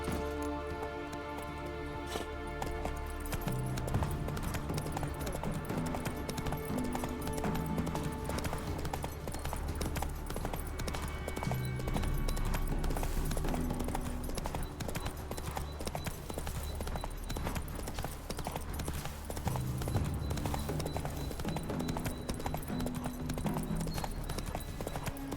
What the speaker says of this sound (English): Go, Roach.